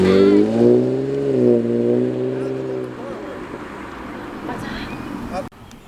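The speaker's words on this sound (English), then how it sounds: "There's only a few platinum Cadillacs available. Let's hear it." A platinum Cadillac's engine revs up with a rising, harmonic-rich roar that holds for a few seconds, then drops back to a rougher idle before cutting off abruptly, heard close to the microphone.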